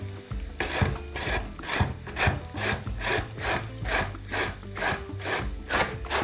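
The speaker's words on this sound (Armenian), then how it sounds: "ես կքերեմ մեծ անցքերով" A carrot scraped against the large holes of a hand grater for a quiche pie, a steady run of rhythmic rasping strokes roughly twice a second, close and fairly loud with no talking.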